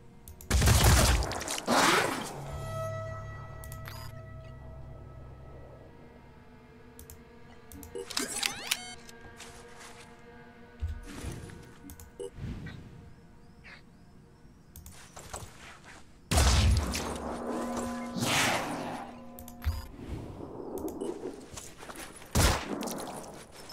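Gunshots in Phoenix Point crack out in a few separate loud bursts spread across a quiet stretch, each sharp report followed by fading ringing tones and softer in-between sounds.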